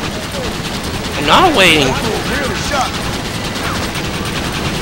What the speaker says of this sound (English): Freaking Gatling gun for the win.